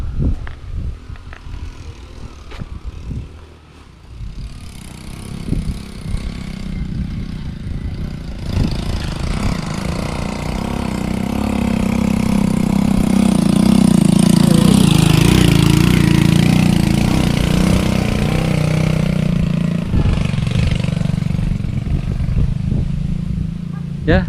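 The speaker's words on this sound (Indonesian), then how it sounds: "barusan ada motor lewat, motor pengangkut kayu ya" Motorcycle loaded with wood passing along a village road in the late afternoon, its engine rising to a loud close pass mid-clip and then fading, over steady outdoor background noise.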